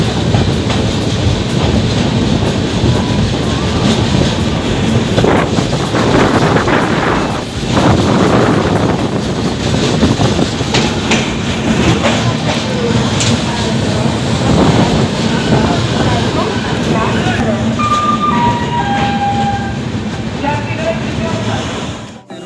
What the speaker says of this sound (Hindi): ये है हमारी जानकी एक्सप्रेस जो कि जयनगर से मानिहारी के बीच चलती है।